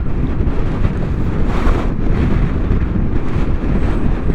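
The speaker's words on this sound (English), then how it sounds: "It's quite windy through this little valley." Strong wind gusts through a small valley beside a road on a Vespa ride to Estes Park, a loud, constant roar buffeting the microphone without letup.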